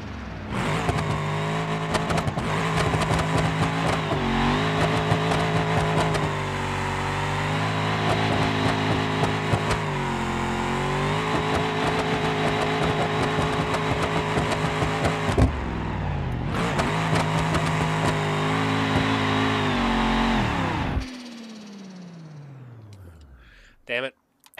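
A car with a sequential transmission roars through a burnout in BeamNG.Drive, its engine held loud and near at high revs with pitch swings and shift dips before winding down to a falling whine.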